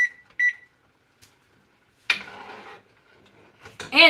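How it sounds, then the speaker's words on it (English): A kitchen timer beeps twice as it is set for eight minutes, followed by faint handling and rustling noises and another brief burst of beeps near the end. "So, put a timer on for 8 minutes."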